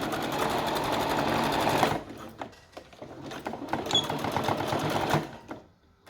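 A sewing machine runs in a steady, continuous burst while stitching elastic onto a pair of long pants, then stops, leaving lighter handling clicks and rustles of fabric close by.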